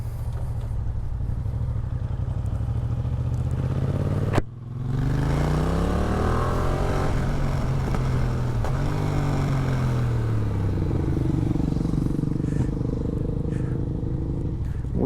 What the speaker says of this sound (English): First off, the wrong way to brake.